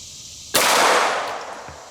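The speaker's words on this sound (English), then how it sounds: "Let's shoot a few more here." A 9mm pistol fires a Hornady 115gr XTP reload, one sharp, loud shot that cracks abruptly and rings out in a decaying echo, with no talk.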